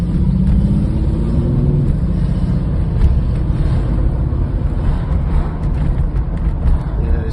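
A Jaguar XJS V12 idles steadily just after an ignition replacement, a loud continuous low rumble with slight wind noise on the microphone and no talk over it.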